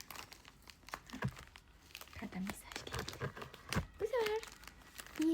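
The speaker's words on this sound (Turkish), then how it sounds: "kargomuzu açacağız. Açalım." Packaging from a cargo parcel crumples, crinkles and tears as it is opened, close and fairly quiet. The rustling comes in uneven bursts, with a voice speaking briefly near the end.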